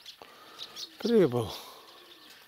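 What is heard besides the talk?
pigeons cooing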